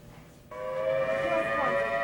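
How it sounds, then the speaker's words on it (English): Air raid siren over Kuwait City during the Iraq war, a steady tonal wail that starts abruptly after a brief quiet moment and holds loud and sustained. "Repeatedly throughout the day, air raid sirens wailed across Kuwait City."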